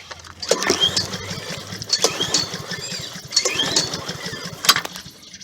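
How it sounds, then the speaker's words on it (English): A new Honda lawnmower with a broken rod is pull-started with no choke, its starter cord whirring in about three rasping pulls that cough and turn over without catching into a steady run. "Let's see if it starts up. There's no choke on here, so let's see if she fires up. Pull the handle back."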